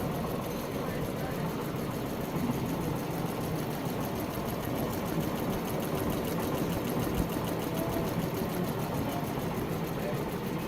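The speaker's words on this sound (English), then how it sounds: "I'm gonna put the volume on so you guys can hear how quiet these machines are." Several Ricoma multi-head embroidery machines, including a four-head model, run at an open house with a steady, even mechanical hum and rapid stitching chatter, continuous and moderately loud throughout with no pauses.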